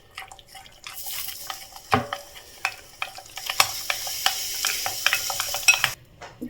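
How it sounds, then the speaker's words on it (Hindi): A spoon stirs and scrapes oil into a tandoori paneer tikka spice marinade in a bowl, with a steady run of close, sharp clicks and scrapes and a faint wet squelch. The gas has just been switched off. "मसाले में तेल हम डाल दिए और इसको मिला देंगे अच्छी तरीके से।"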